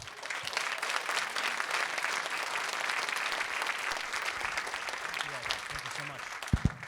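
An audience claps and cheers for speaker CJ Calvert at a YPN presentation, steady full applause for about seven seconds, with a couple of thumps near the end.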